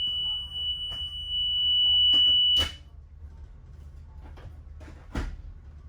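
Van warning buzzer sounding during a pre-trip inspection as a steady high electronic tone lasting about two seconds, followed by a few sharp clicks and knocks from inside the vehicle.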